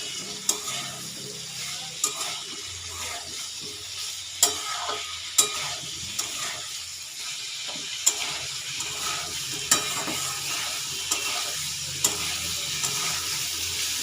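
Vegetables shallow-fried and stirred in a pan for vegetarian dalia khichuri, with a steady sizzle of oil and repeated sharp clinks of a spatula scraping and stirring at close range, no talk.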